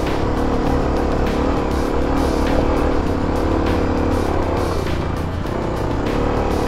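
A Kawasaki KLX250 dual-sport motorcycle climbing a steep grade in first gear, its engine loud and close, revving with a rough, steady drone and small surges.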